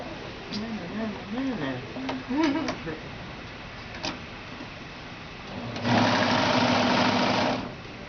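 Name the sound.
serger sewing machine joining zig zag knit quilt pieces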